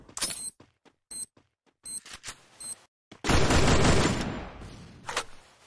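Rapid gunfire in a ranked Counter-Strike match, several short sharp shots in quick succession followed by a dense, loud burst of automatic fire that slowly trails off, then another single crack.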